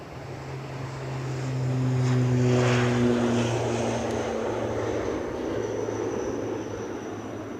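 A propeller airplane takes off into a strong headwind during a storm at Edinburgh Airport, a steady engine drone swelling to a loud peak and then holding as a broad roar with gusty wind noise, no voices.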